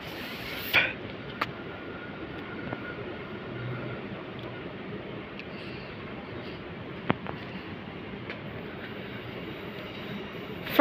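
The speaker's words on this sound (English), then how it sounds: "Is the Cooper's Plains train." A Cooper's Plains commuter train pulls into a platform at South Brisbane station, heard as a steady broad rumble of rolling wheels with occasional sharp clicks and clanks, sounding fairly close and with no talking.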